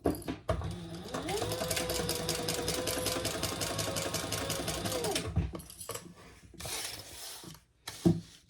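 A sewing machine runs a steady stitching burst for about five seconds while sewing a crossbody bag lining at the seam allowance, with a rapid, even needle rhythm, then stops and leaves a few short clicks and handling noises.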